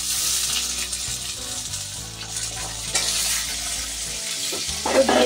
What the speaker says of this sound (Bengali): এবার আমি আলুগুলিকে ভেজে নিচ্ছি।